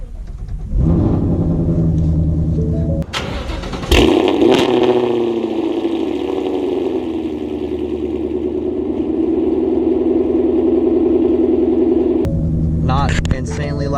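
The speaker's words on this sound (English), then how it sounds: "now we're gonna go ahead and hop on in here and get a cold start video" A car with a loud aftermarket exhaust cold-starts after sitting for two or three days: a sharp crank and catch, then a deep, steady rumbling idle that holds loud and close for about ten seconds before cutting off, with a voice speaking over the idle.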